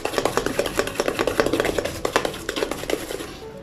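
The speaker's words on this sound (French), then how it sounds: "on va mélanger jusqu'à ce que le mélange devienne bien mousseux" Génoise sponge cake batter is beaten until foamy, giving quick, rhythmic scraping and clicking strokes against the bowl, close and fairly loud, stopping briefly at the end; no voices.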